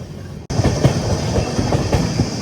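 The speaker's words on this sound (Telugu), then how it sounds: "కృష్ణ ఎక్స్ప్రెస్ అబ్బా అది" The Krishna Express rumbles past on the rail line, loud and close, with steady clickety-clack wheel beats after a sudden onset, heard from a train moving through the Betraganta area.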